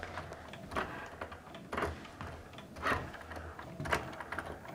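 A Cricut machine writes addresses onto an envelope with a soft mechanical whir, its pen carriage making repeated short strokes in a steady, irregular rhythm at close range, with no talking.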